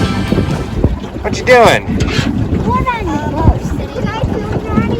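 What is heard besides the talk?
boat moving on the water in Yellowstone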